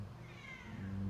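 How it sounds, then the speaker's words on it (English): A domestic cat meows faintly and drawn out over a low background hum. No one speaks. "My cat's so annoying."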